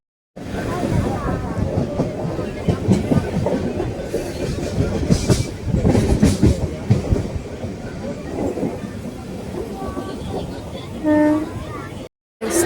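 Continuous rumble and rattle of a moving passenger train with rhythmic clatter, heard from inside, with people talking over it throughout, in Kerala.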